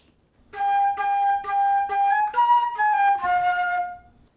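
A solo flute plays measure 8 of a song, a clear close phrase of about eight detached, evenly spaced notes ending on a held tone, with nothing else in the background.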